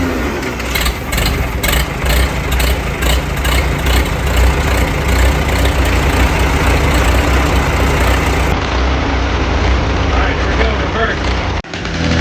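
A 1945 Farmall A tractor engine runs at close range, a loud, steady low chugging with slight revving. It carries on for about eleven seconds, then cuts off abruptly near the end.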